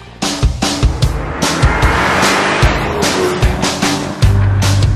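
BMW 128ti front-wheel-drive hot hatch being driven, with repeated sharp thumps and bursts of engine and road noise close by, uneven and loud throughout, a heavier surge near the end.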